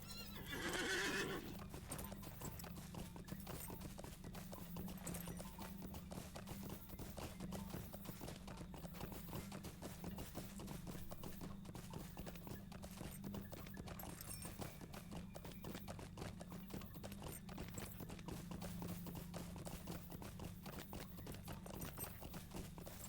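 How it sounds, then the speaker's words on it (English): Rapid clip-clop of horse hooves running steadily throughout in the video game Lord of the Rings Online, opening with a loud whinny, with a constant low rumble beneath. "Horse."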